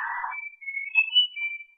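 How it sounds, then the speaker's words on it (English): A person whistles a short, thin melody of a few sustained pitched notes, close and clear, after a brief breathy rustle. "who in the world's whistling?"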